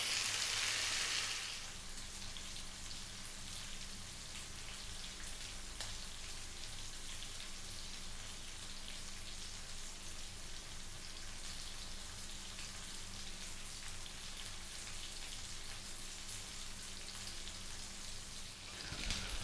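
Spicy fish frying in a pan with hot oil gives a steady, close sizzle of fine crackling that runs unbroken throughout, loudest in a brief hiss at the start and otherwise even.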